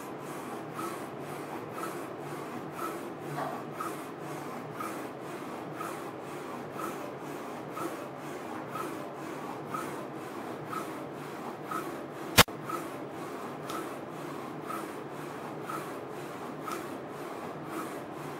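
A rotary bottle printing machine lays down a color layer, giving a steady rubbing, mechanical whir with regular periodic strokes throughout and one sharp click partway, moderately quiet with no talk.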